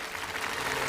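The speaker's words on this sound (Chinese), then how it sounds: "让我们掌声欢迎" A television studio audience claps to welcome a guest on stage, a dense, even wash of applause filling the brief moment without speech.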